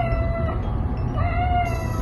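A male cat meows loudly and close at breakfast time, two drawn-out complaining meows in quick succession with no talk over them.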